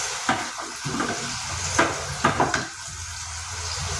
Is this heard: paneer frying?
yes